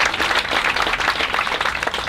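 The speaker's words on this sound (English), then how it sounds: "You can clap for that" Audience at a white coat ceremony for a physician assistant class applauds steadily, a dense, close wash of many hands clapping without pause.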